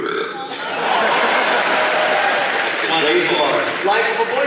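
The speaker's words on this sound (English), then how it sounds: "can you give us a little burp on cue?" A voice actor lets out a long, loud burp on cue at a live Star Wars Rebels panel, followed by a crowd's applause and cheering.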